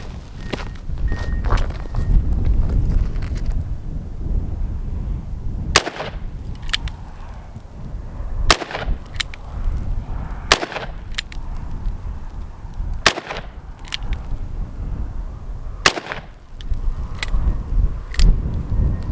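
A .22 rifle fired repeatedly at a baseball helmet outdoors, about ten sharp cracks spaced a second or two apart over rustling and shuffling background noise.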